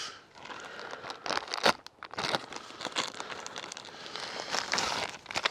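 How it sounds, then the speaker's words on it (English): A box cutter slices open the plastic bag around a One Tigris Northgaze tent, giving close, crinkly tearing and crumpling bursts that come in uneven spurts with short pauses between. "Now I'll use a box cutter."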